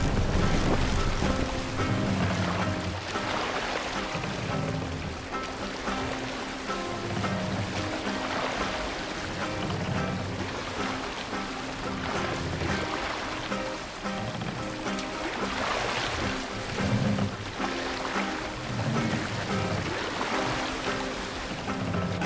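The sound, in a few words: sailing ship on ocean waves in Assassin's Creed Valhalla video game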